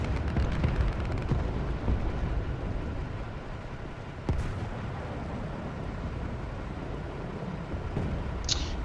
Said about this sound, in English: I hear this. I hear bombs